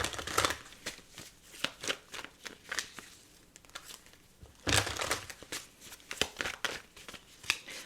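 Tarot cards are shuffled and drawn, with crisp riffling and slapping bursts of card stock in irregular clusters, close and fairly loud, with brief pauses between handfuls.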